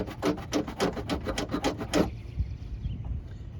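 Primer and paint are rubbed off a car part with an abrasive, a quick series of about ten rhythmic scraping strokes followed by quieter, slower rubbing, close and distinct with no speech.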